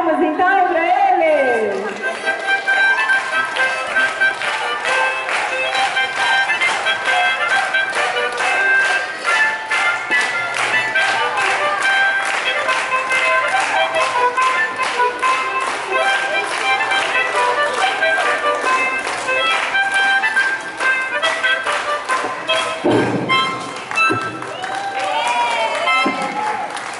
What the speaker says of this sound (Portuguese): Vamos batendo palmas então pra ele!